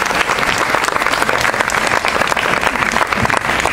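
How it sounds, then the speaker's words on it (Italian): An Italian evening-show crowd applauds its sponsors, a full, lively roar of many hands clapping at close range, steady and loud throughout without speech. "io chiedo un applauso per tutti questi imprenditori che ci hanno aiutato"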